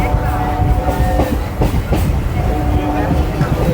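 A local train pulling out of Lakshmikantapur station on the single-track Sealdah–Namkhana line, a steady rumble with wheel clatter and rail clicks throughout, close and continuous.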